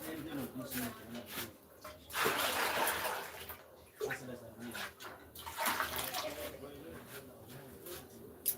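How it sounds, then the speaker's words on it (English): Water is poured out of a pot after washing beans, splashing in bursts of gushing and trickling with pauses between them, while a person talks intermittently. "I poured away the water."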